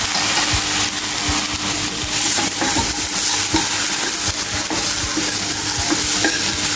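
Cooked peas for matar kachori are stirred into oil in a frying pan over a medium flame, giving a steady close sizzle broken by repeated scraping strokes of the spoon against the pan.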